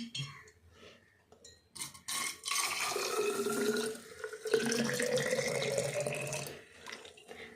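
Lukewarm water poured from a vessel into a container holding rice, a gurgling, splashing stream that starts after some handling clatter, swells and runs steadily for several seconds, fairly close and moderately quiet.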